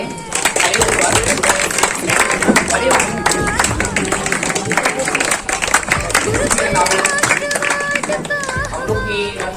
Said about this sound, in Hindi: मैं चाहूँगा कि आप लोग उनका तालियों से स्वागत करें।